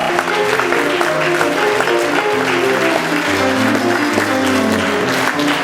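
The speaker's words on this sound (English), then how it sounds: "Give everybody involved in the meal downstairs a big round of applause." An audience at an Asbury dinner event applauds the meal crew, a broad, even patter of many clapping hands layered over music with clear sustained notes, loud and unbroken from start to finish.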